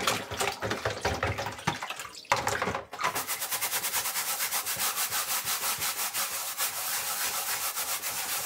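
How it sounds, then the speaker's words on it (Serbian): A stiff brush scrubs food residue off a basket in steady, rapid back-and-forth strokes, close and fairly loud, with a short break before a long even run of rubbing. "zatim ću da očistim i ovu korpu, odnosno da otklonim ove ostatke hrane. To je najbolje da radite uz pomoć četke"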